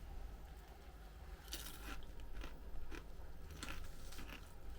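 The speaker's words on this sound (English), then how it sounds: "That crunch is good." Crunching bites into crispy, fluffy-centred roast potatoes, a few sharp crackly bursts spaced over several seconds against steady room noise, with no speech.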